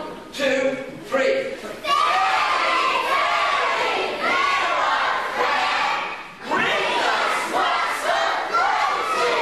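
A panto audience at a village Puss In Boots show shouts together in a loud, sustained crowd yell, with short bursts of speech at the start before the roar swells, dips and rises again.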